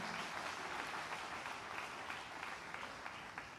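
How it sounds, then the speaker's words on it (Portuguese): Sustained applause from a church congregation, steady clapping throughout with no voices on top. "Vamos aplaudir ao Senhor."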